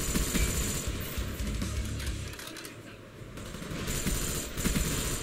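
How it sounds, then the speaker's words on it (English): FAMAS rifle fired in Black Ops, rapid bursts of automatic gunfire crackling steadily through most of the stretch, briefly dipping midway before resuming, loud and close with dense game action behind it. "Good shots with this FAMAS."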